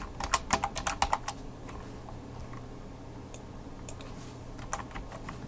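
Typing on a computer keyboard, a quick burst of close, crisp keystrokes early on, then a few scattered taps over a low steady room hum.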